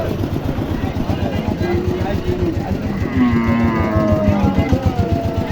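A bull calf moos at a busy cattle market, with a clear drawn-out call standing out near the end over steady crowd noise and nearby voices.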